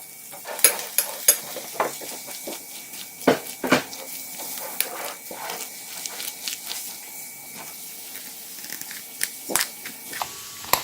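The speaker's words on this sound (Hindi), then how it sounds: "मायोनेज, गार्लिक पाउडर, सॉल्ट 1 टीस्पून। इसको मिक्स करेंगे आप।" Mayonnaise, garlic powder and salt stirred together in a bowl, giving soft scraping and occasional sharp clinks of a spoon against the dish, fairly close and alone without talk.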